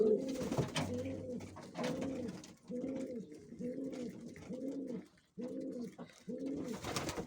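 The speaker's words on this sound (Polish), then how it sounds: "nie przychodziły Gołębie jak w mieście, normalnie Z ręki żreją" Pigeons feeding from a hand coo close by in a repeated rhythmic series of soft, low throaty calls, with brief pauses between bursts and light rustling.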